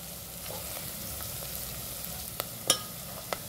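Onion and green chillies sauté in hot oil with a soft, steady frying hiss, punctuated by a few sharp clicks and a brief clatter of a utensil near the end.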